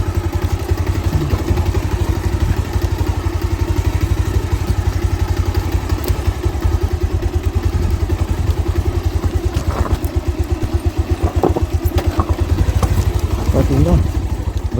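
A vehicle engine on a village road, a steady loud pulsing drone with rattling clatter and occasional thumps, revving up as it pulls away, running throughout with a voice speaking over it.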